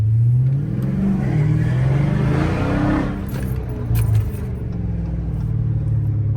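A Dodge Scat Pack with traction control off and in track mode accelerates hard through traffic, its engine rumbling loud and steady throughout with a brief surge in the middle and some rattling in the cabin.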